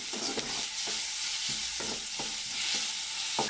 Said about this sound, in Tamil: இஞ்சி பூண்டு பேஸ்ட்டு போட்டுக்கலாம் நல்லா கொஞ்சம் வதங்கிட்டோம்